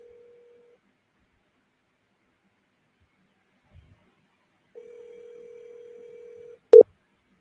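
A telephone call is placed: a brief tone, then a steady ringback tone sounds for a couple of seconds before a loud click as the line is picked up, with near silence between.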